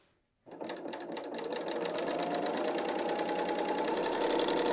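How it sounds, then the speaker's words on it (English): A BERNINA L 890 sewing machine stitches a binding seam on a knit dress, starting after a brief pause and running in a steady, fast, close mechanical whir that holds at an even pace to the end. "And then we're going to sew right across here."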